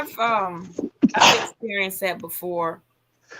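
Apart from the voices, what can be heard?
sneeze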